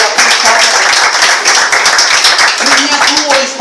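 Whole congregation clapping loudly and steadily at an evangelical church service, a sustained dense burst of many hands, with a voice briefly rising over it near the end.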